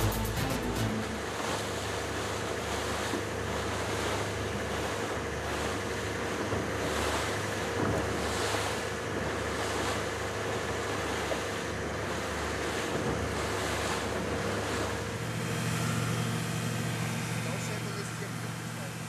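Rough seas off Lesbos roll in as steady broadband surf with wind buffeting the microphone, a continuous loud wash with a faint low engine-like drone beneath, at times mixed with voices.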